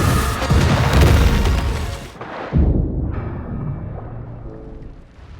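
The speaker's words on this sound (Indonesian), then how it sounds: "Venom merobek tangki bahan bakar dan roket itu seketika meledak" A rocket fuel tank bursts apart in a film scene, a loud booming blast with crashing debris that drops away and then surges into a second rumbling burst.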